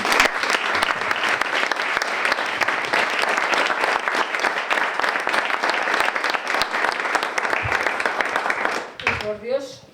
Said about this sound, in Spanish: Quiero pediros un aplauso para Inmaculada Molinero.